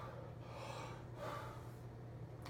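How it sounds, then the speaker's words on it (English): A trombone player takes slow, deep breaths in a quiet room, with soft airy swells of inhaling and exhaling under a low steady hum. "continuing to take deep breaths"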